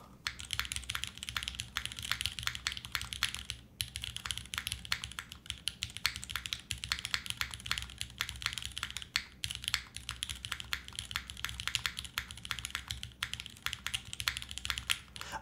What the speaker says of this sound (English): That's a nice space bar.